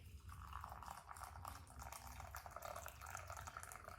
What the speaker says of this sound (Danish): Så tager jeg noget kogende vand og hælder på her